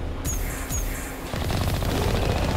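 Rapid gunfire and cannon blasts during a Thresher Maw fight in the Mass Effect video game, a dense, continuous burst of loud automatic shots with heavy low booms and no speech.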